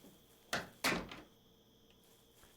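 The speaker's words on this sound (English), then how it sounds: "I'm so far away from that door, it should not be that loud" A door in the video game Sagebrush slams shut with two sharp, loud thuds in quick succession against a quiet backdrop with a faint hum, no talk.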